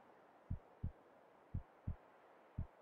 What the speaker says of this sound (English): that heart beating really does get to you in this game